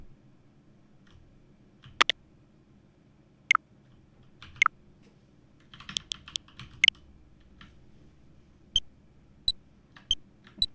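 Someone presses the WASD keys on a computer keyboard, giving sharp, separate clicks at irregular intervals with a short flurry in the middle, close and distinct against quiet background hum.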